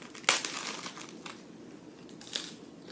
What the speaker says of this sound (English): And I'm just going to break off a piece.